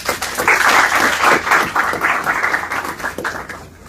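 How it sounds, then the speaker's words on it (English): An audience applauds the Premier at a press briefing, a fairly loud swell of clapping that peaks early, holds, then slowly tapers off. "Give him a round of applause,"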